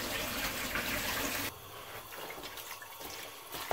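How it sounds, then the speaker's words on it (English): Water gushes into a large pan over chopped onions in a kitchen with a bright, splashing pour, then cuts off abruptly, leaving a quieter trickle and faint drips. "all we want to do now is just cover those onions with water"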